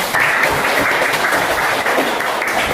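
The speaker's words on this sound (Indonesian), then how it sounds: "tepuk tangan untuk kita semua" Loud, steady applause from students in a classroom, many hands clapping together in a dense, continuous wash for the whole stretch.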